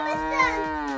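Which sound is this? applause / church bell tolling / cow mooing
cow mooing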